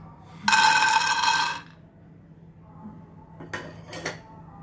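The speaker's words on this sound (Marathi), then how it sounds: "इथे मी एक वाटी शेंगदाणे भाजून घेत आहे" Peanuts dry-roasting in a pan on low heat are stirred, a loud, close scraping rattle lasting about a second, then quieter pauses and two short metallic clinks and scrapes.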